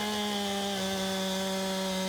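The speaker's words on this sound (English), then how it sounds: "let's get the old chainsaw out" Chainsaw cutting wood in the video game Farm Sim, a loud, steady buzzing engine whine holding one pitch throughout, close and continuous with no talking.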